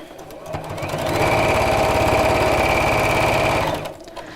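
A sewing machine runs a straight line of stitches across fabric, a fast, even whirring buzz that ramps up, holds steady for a few seconds close by, then stops.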